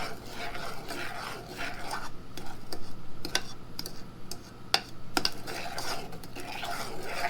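Chocolate fudge stirred in a pot, a steady scraping and ticking of the spoon against the pan repeating in a quick rhythm, with a few sharper clicks mixed in, close and fairly quiet.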